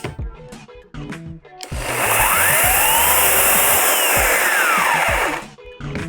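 Procraft corded electric chainsaw starting up after a few clicks and handling knocks, spinning quickly up to a loud steady whine, running for about three seconds, then winding down and stopping abruptly, close by.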